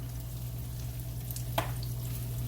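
Potatoes seasoned with black pepper fry steadily in a hot pan, giving a low continuous sizzle with a brief louder crackle near the end and no talk.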